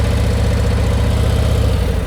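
A motorcycle engine idles close by during slow-speed clutch practice, a loud, steady low-pitched rumble with a fast, even throb that continues without a break.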